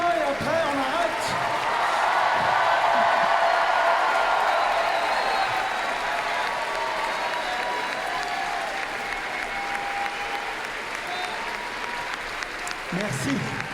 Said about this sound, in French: Bon, le dernier applaudissement et après on arrête.